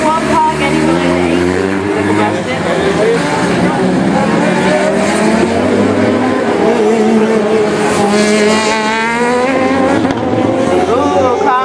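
A Formula Student race car on an endurance track at Formula Student Germany 2012 drives past, its engine revving and shifting loud and close while a commentator talks over it throughout.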